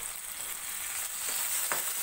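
Onion and chopped tomato frying in a pan, giving a steady, moderately loud sizzle throughout with a couple of brief stirring scrapes near the end, no voices.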